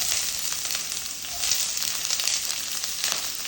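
Small chopped onions go into hot coconut oil with curry leaves for a chicken curry, giving a steady, bright sizzle with crackling pops that swells briefly a couple of times.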